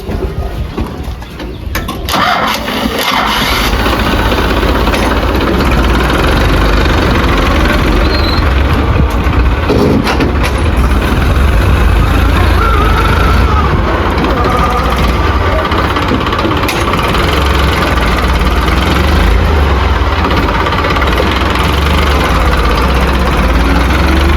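A tractor engine runs steadily and loudly nearby, a continuous deep idling rumble that holds throughout, with faint bird calls barely audible beneath it.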